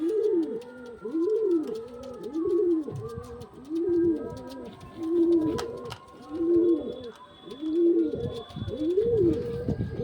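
A female pigeon coos in a repeated, rhythmic series of soft, rolling calls, fairly close and steady throughout.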